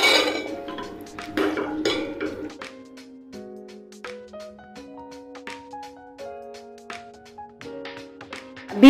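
Mutton and a secret spice powder get mixed in a pot, a metal spoon clinking and tapping against the pot in bright, irregular knocks, louder and busier at first, then sparser with ringing tones.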